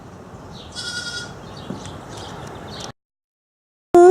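Young goats bleating at a farm petting area, with a few overlapping calls near and fairly loud over a steady outdoor background, then a sudden pause before another short sound cuts in at the end.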